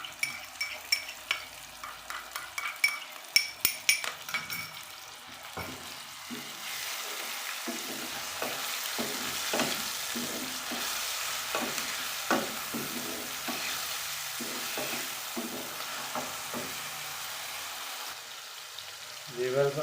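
Tomatoes and green chillies fry and sizzle in a pan for nimko curry, with a steady crackling hiss throughout and repeated clattering stirring scrapes, busiest in the first few seconds.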